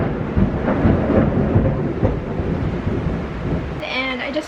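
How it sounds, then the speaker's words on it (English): Deep thunder rolls and rumbles through a steady rain outside, heavy low-end noise with wind gusts, loud and sustained, and a person starts speaking near the end. "I just feel like you won't hear me if there's like thunderstorms and all that"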